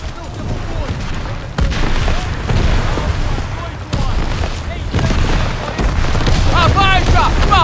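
Artillery barrage in the World War II shooter Call of Duty WWII, with repeated heavy booming explosions rolling one after another, loud and close, mixed with shouting voices.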